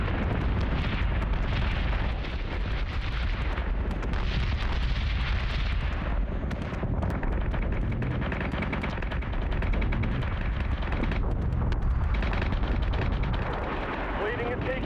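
Ship weapons and explosions in the space battle game Battlestar Galactica: Deadlock, a dense continuous roar of rapid flak fire and booming blasts, loud and unbroken throughout.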